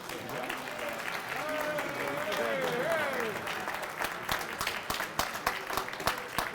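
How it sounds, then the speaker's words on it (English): A crowd claps steadily, building in the first few seconds and then thinning into scattered individual claps toward the end, with a faint voice underneath. "Big round of applause for Greg."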